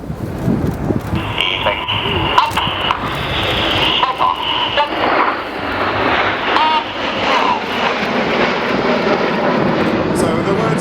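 Red Arrows jet aircraft flying a formation roll at an airshow, a loud, steady jet engine roar with rising and falling tones. A commentator talks over it throughout.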